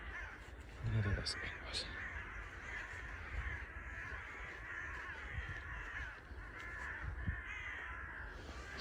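A flock of around twenty crows caws repeatedly in a forest, the calls carrying at a middle distance over steady outdoor ambience while someone talks quietly.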